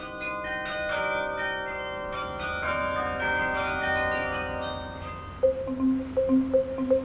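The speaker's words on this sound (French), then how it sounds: "On ne paye pas de ticket d'entrée pour écouter le carillon, puisqu'il s'écoute dans toute la ville." Carillon bells ringing out across a northern French town, a melody of overlapping clear tones with long sustains, ending in a repeated two-note figure struck at a steady pace.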